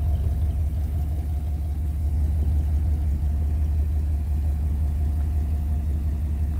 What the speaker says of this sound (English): Okay, we're taking a little spin here in the 57 Thunderbird